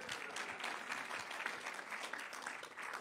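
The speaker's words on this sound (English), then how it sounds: "Do one more and we'll cheer." A fairly distant audience at a healthy-living event claps continuously in a steady, even round of applause, fairly faint and without clear shouting or speech.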